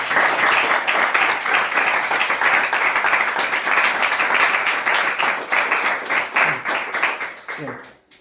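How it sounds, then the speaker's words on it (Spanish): A room of attendees at a lecture on language, liturgy and music applauds warmly and steadily for several seconds, the clapping thinning out and fading near the end, with some voices mixed in. "un aplauso para..."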